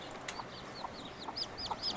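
A hen with a couple of small chicks, heard faintly: soft repeated clucks alongside high thin peeping chirps in a quiet outdoor setting.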